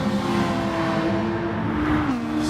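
A Mazda race car in a racing video game holds a loud, steady engine drone with a sustained high tone that dips slightly near the end.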